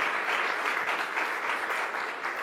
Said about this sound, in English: I'd ask the room to give you a round of applause